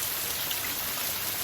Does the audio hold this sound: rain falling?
yes